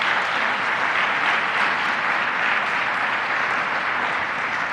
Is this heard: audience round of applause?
yes